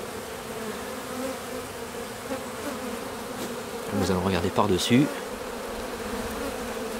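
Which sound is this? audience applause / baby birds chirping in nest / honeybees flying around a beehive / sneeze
honeybees flying around a beehive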